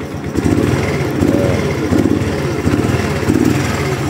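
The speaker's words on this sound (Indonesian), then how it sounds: "ini untuk suara mesinnya ya, bisa kalian dengarkan sendiri ya" An underbone motorcycle engine idles steadily, a close, continuous low putter with a slight rhythmic pulsing and no one talking.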